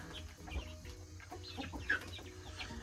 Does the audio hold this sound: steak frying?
no